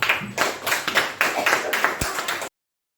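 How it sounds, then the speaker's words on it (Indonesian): Several pairs of hands clap in a brief burst of applause in a classroom lesson, lasting a couple of seconds, moderately loud and close, then stopping abruptly. "berikan tepuk tangannya dulu"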